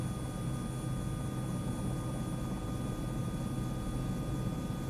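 A Bell 407 medical helicopter's engine and rotor drone steadily at low volume as the trim is run up to raise RPM, a continuous hum with a faint high whine and no voices.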